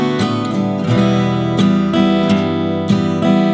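Solo guitar plays the chord part of a song, with ringing chords struck in a steady rhythm, close and full with no talking.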